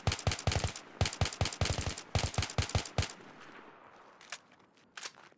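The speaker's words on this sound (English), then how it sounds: "The next is a mix between tap firing and burst firing." Rifle fire in the Battlefield 3 video game, mixing single taps with short bursts: rapid, loud, close shots in clustered volleys that break off, then a few sparse echoing shots fade out.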